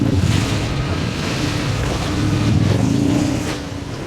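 Rain falls in Thailand as a loud, continuous rushing wash that stays fairly even throughout, with no voices.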